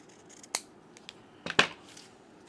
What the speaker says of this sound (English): But let's cut it to size first. So I'm going to cut it right about there.